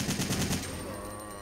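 Rifle fire in the video game Resident Evil 3 Nemesis: a loud, dense rattle of rapid automatic shots that carries on and then fades into a lingering echo.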